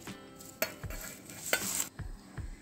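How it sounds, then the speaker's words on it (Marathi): Curry leaves dry-roasting and crackling in a hot pan, with brisk stirring scrapes and a few sharp pops and knocks, close up and alone. "भाजलेले कढीपत्त्याचे पानं। बघा याचा आवाज तुम्हाला येत असेल।"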